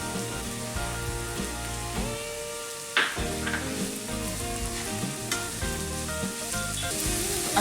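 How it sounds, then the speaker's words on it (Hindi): Carrot halwa with sugar and ghee sizzles steadily in a pan while being stirred, a constant close frying hiss with a few scraping stir sounds and no talking. "अच्छे से इसको सॉटे कर लीजिए ताकि जो हमारा शुगर है वो अच्छे से मेल्ट हो जाए"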